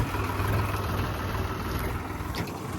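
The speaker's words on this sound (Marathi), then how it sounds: "तुम्ही आवाज पहा फक्त या ट्रॅक्टरचा" A tractor engine idles nearby with a steady, low, throbbing rumble that holds evenly throughout, with no voices.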